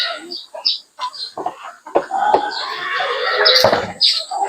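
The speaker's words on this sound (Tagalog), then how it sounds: "So ito ang ating mga inahin." Native hens cluck in short, choppy bursts close by, mixed with other farmyard noises and what sounds like a voice.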